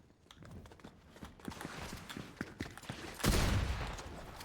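Pump shotgun gunfire in a video game: a string of sharp shots and clattering movement sounds, ending in one louder, heavier blast near the end.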